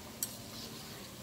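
Punjabi masala mathri fry submerged in oil in a kadhai while being gently stirred. A faint, steady sizzle runs throughout, broken by one light tap of the spoon near the start.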